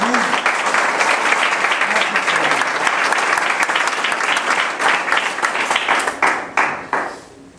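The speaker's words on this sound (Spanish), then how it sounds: "Denle un fuerte aplauso a Jesús." A church congregation breaks into loud sustained applause, dense clapping from a large crowd that thins out into a few last claps at the end, with some voices underneath.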